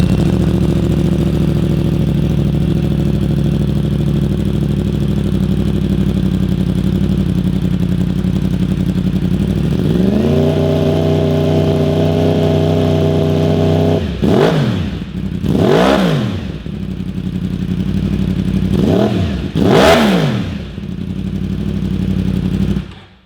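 A warmed-up Yamaha YZF-R1 sport motorcycle with a carbon slip-on exhaust idling with a deep, steady burble, then the engine rises in pitch and settles, followed by several sharp revs, close and loud.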